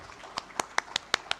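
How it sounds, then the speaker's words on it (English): Sparse, crisp clapping at a Federal Judicial Academy event, about seven distinct claps in a steady rhythm, fairly near and fairly quiet. "A big clap for Justice Shah, Ma'am Huma, and Justice Aisha, Justice Munif, Fozia Bakar,"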